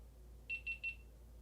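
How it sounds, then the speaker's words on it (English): A GoPro camera gives three short, evenly spaced electronic beeps, faint but clear over a quiet late-night room hum. "why are you beeping at me?"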